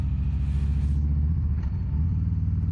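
A car on a public road gives a steady, close, low engine rumble that swells slightly and settles, with no talking.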